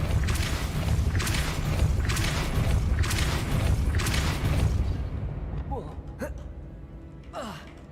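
The Depulso force spell cast in Hogwarts Legacy, a loud sustained whooshing rumble with rhythmic surges that fades after about five seconds into quieter mechanical clicks and short rising tones.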